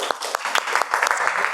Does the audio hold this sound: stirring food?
no